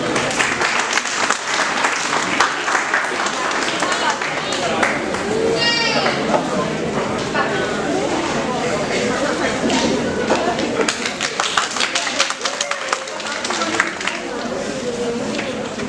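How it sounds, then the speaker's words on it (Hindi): Audience applause at an Independence Day celebration, sustained and dense for the whole stretch, with children's voices and scattered shouts mixed into the clapping crowd. "तालियों से इनका स्वागत करते हैं।"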